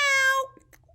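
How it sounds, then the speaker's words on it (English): Cat giving a single short meow, close and clear, fading out after half a second into near silence. "now we have a cat"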